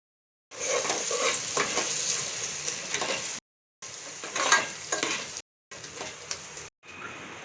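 Ginger-garlic paste and homemade pav bhaji masala being stirred and fried in a pan, a crackling sizzle with spatula scrapes, cut into several short stretches by silent gaps.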